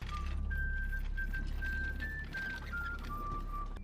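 A person whistles a wavering, sustained tune, a thin steady tone that slides slightly in pitch over nearly four seconds, riding over a dense bed of background noise and low rumble.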